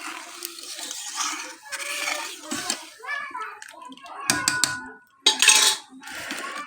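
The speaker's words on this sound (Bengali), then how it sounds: "এখন ডালটা সম্বার দেওয়া হয়ে গেছে, ডালটাকে ভালো করে নাড়াচাড়া করে আর একটু যখন উতাল আসবে তখন নামিয়ে নেব।" Dal being stirred in a pot with a spoon, giving a few metallic clinks and scrapes, with people talking in the room, including a voice.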